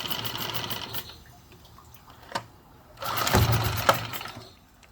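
A 1986-era Suzuki outboard motor idling with a low, steady rumble and rattle, interrupted by a short lull before the engine noise swells again, with a few sharp knocks near the end.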